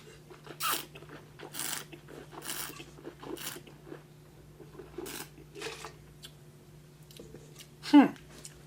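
Crisp bacon is bitten and chewed close to the mic in repeated dry crunches about once a second, with one louder click near the end.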